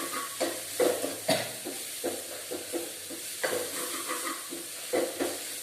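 Potato pieces sizzle in a pan of hot oil while a spatula scrapes and stirs them in irregular strokes, a steady close frying hiss punctuated by soft clatters.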